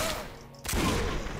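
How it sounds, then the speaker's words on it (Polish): Gunfire in the action role-playing game Risen 2: Dark Waters during a fight, a sharp loud shot bursting in after a quieter stretch, followed by a dense rumbling tail. "Jeszcze może z dwa strzały."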